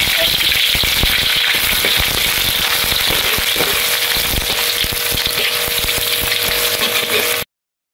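Ginger, garlic and onion sauté in hot oil in a pan for a sardine dish, giving a steady, close, loud sizzle and crackle that runs unbroken until it cuts off abruptly near the end.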